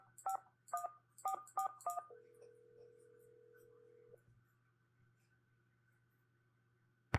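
Telephone dialing in the Nancy Drew game Scarlet Hand: five quick keypad tones in a row, then one long steady ringback tone, all over a low hum, ending in a brief click.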